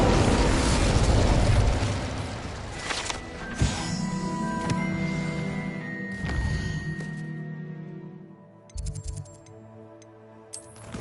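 In Hogwarts Legacy, an Incendio fire spell is cast with a loud burst and whoosh, followed by bright magical tones and crackling pops that fade. A few more sharp pops come near the end.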